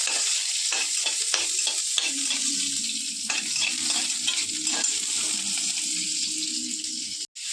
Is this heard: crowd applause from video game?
no